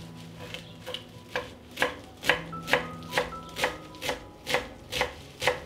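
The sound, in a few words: chopping fresh parsley with a knife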